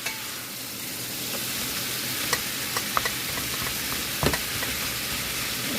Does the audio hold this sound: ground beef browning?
yes